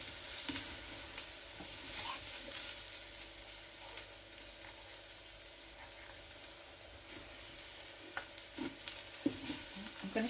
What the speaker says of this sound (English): I'm going back in with the mince and I'm going to give it a good stir to combine.